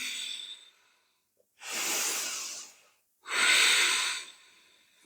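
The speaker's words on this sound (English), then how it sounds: "So just breathing in." Slow, deep breaths during a hatha yoga child's pose, two long airy inhalations rising and fading after a trailing exhale, close and clear against silence.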